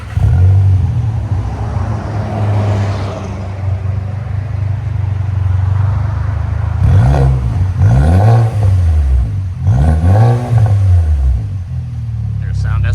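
Tuned 2016 VW Jetta SEL TSI 1.8L turbo with high-flow cat, glass pack, mid resonator and aftermarket dual-tip rear muffler, idling loud and then blipped through three sharp revs that rise and fall, close and alone.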